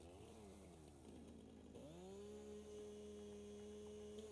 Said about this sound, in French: Tronçonneuse, hein.